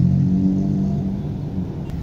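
Car engines rumble and rev on a flooded road in rainy-season Ecuador as vehicles turn back, a low steady drone close by with no talk.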